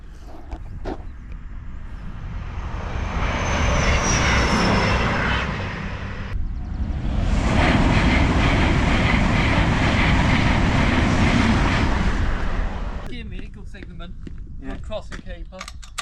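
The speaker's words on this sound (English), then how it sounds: "Oh, I think I can hear a train coming." A loud, sustained roar builds, holds for several seconds, briefly dips and surges again, then fades away, like a heavy train passing close by. Voices talk over the start and end.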